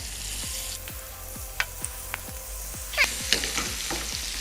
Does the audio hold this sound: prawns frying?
yes